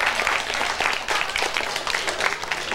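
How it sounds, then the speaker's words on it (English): Studio audience at a 1987 Peterborough campus quiz show applauding a contestant, a steady dense wash of clapping that holds throughout at full strength. "Big round of applause for Ken."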